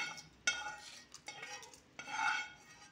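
A spoon scrapes and clinks softly while stirring tempering into a coarse cucumber chutney paste, with several short stirring strokes and a longer mixing scrape at the end, close and quiet.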